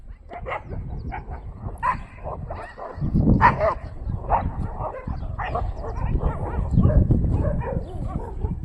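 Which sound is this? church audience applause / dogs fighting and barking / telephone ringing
dogs fighting and barking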